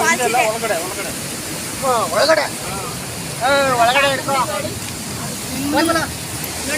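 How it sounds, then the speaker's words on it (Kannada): Hogenakkal Falls roars as a steady, broad rush of falling water with coracle boats nearby, heard beneath people talking throughout. "ಫಾಲ್ಸ್ ಹತ್ರ ಬಂದಿದ್ದೀವಿ ಇದೇ ಫಾಲ್ಸ್"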